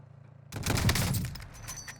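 A single sharp sniper-style gunshot in the Warzone battle royale game bursts out after a quiet lead-in, with a brief reverberant tail fading over the next second.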